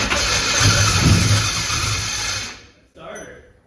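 A 1971 car with a 360 engine cranks as its starter grinds against a new flywheel, a loud, steady whirring and grinding that cuts off sharply after about two and a half seconds, then returns briefly and more faintly.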